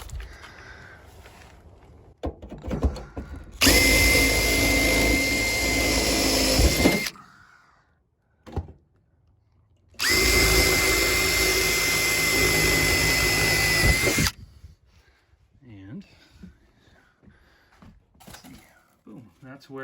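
A power drill bores holes through a converted short bus wall, with insulation behind it, to fit a water inlet. It runs in two long, loud, steady bursts separated by a pause, with talk at the quieter start and end.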